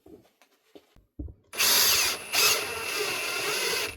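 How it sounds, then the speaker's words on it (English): A few soft taps, then an oversized power drill driving screws whirs loudly and steadily up close, briefly dipping before spinning on. "This drill is actually way too big and strong for this job."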